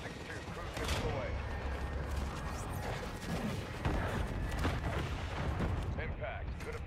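A cruise missile strike in a shooter video game: heavy, rumbling booms with a low roar, a distinct blast about a second in and another stronger one near the four-second mark, over continuous battlefield noise.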